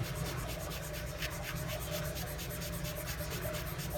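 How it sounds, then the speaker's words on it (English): Light hand sanding on the painted body of a diecast model car, a steady close scratchy rubbing with a quick back-and-forth rhythm that continues without pause. "just sand it lightly on those because it'll come off pretty easy"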